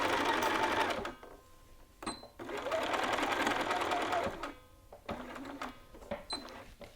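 A sewing machine stitches darts in short runs of rapid, steady whirring, stopping briefly between bursts, with a voice speaking over parts of it.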